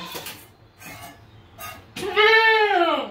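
A goat bleats loudly and close while being milked during morning chores, with a long wavering cry at the end after a few fainter sounds.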